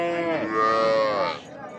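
A Sahiwal cow with a calf at the Ambari cattle market gives one long, loud, close moo that rises and then falls away.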